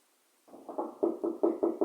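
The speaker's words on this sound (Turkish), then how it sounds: "kapı çalıyor sanki. Duyuyor musun sesi?" Knocking on a door: a string of about seven firm, evenly spaced raps that start after a short silence and grow slightly louder, with no talk.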